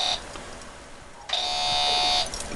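Homemade pulse induction metal detector self-oscillating, giving a steady buzzing electronic tone that drops out briefly and returns louder, close and continuous with no talk.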